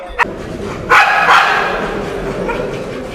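AmStaff dog at an outdoor dog show giving a couple of short barks and yips, moderately close, over a steady background of crowd murmur.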